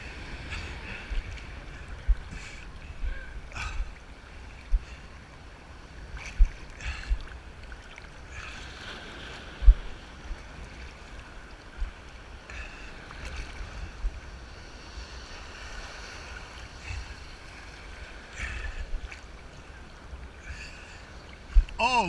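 Beach waves wash and rumble steadily with wind noise close to the listener, a continuous surf bed broken by small knocks and splashes.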